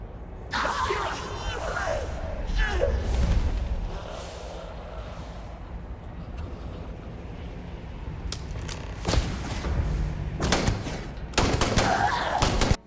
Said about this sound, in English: then starts shooting you with their gun